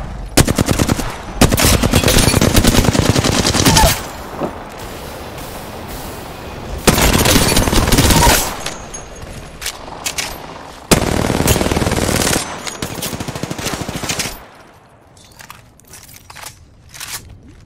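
Dense bursts of automatic gunfire in a sci-fi video game, harsh crackling volleys in several loud stretches separated by quieter gaps, fading to sparse scattered shots at the end.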